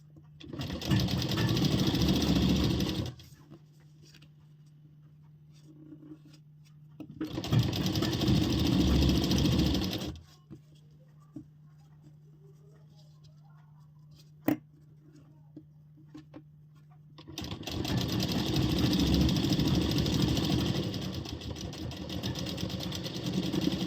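A sewing machine stitching a ladies' salwar whirs in three long, steady runs separated by pauses where a low motor hum lingers, close and without talk.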